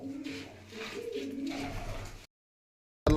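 A female pigeon coos softly in a few low rolling calls close by after returning to her loft, then a sudden silence before a brief burst of noise.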